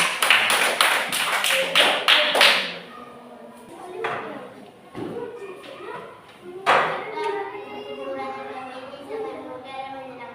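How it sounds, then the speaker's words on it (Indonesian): A group of children claps together in a classroom, a burst of quick, loud, rhythmic hand claps at the start that fades, followed by scattered taps and a teacher speaking. "tepuk tangan dulu untuk kelompok A"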